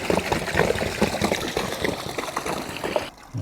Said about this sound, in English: just going to let the water out down the drain here